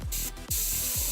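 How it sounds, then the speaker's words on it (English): Short, close bursts of spray paint hiss onto skulls, with a brief pause and then a longer steady blast, loud and alone. "Going to be careful with overspray on this one"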